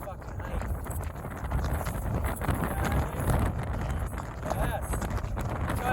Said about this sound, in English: You probably can't even hear us because of goddamn wind.